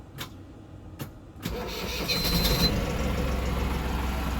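A Mahindra 6075 tractor engine cranks in two short bursts, then catches and starts, settling into a steady, fairly loud running rumble.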